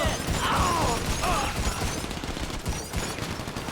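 Rapid gunfire in GTA Online during a contact mission shootout, dense rattling bursts that start loud and near, then break into scattered, more distant shots.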